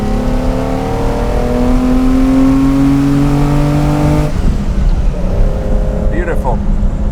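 Lamborghini Islero V12 roaring through induction and exhaust as it accelerates, with steady harmonic engine tones climbing then dropping as the car cruises on; loud and close from the cabin, with talk heard over it.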